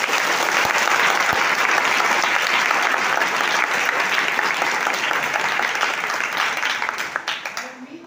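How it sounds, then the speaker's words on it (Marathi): Loud, dense applause from a large gathered audience honouring the teachers, sustained for several seconds before fading out at the end. "त्यांच्यासाठी एकदा जोरदार टाळ्या"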